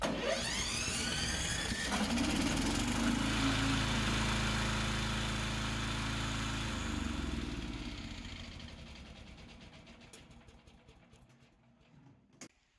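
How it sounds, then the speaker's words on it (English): The gasoline engine of a remote-controlled crawler brush mower runs at a steady idle, loud and close at first, then gradually fades and dies away toward the end with no talking. "Use this button to start the gasoline engine."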